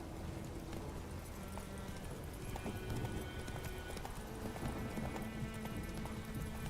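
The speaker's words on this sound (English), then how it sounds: "Guy's galloping through with the horse." Horse hooves gallop through The Witcher 3 in a steady, busy clip-clop rhythm, mixed with continuous game ambience and noise, with an occasional whinny-like sound.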